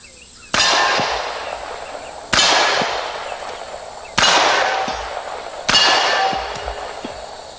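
Four loud, sharp gunshots from small American Derringer handguns fired outdoors in hot, humid weather, spaced about two seconds apart, each with a ringing, decaying tail.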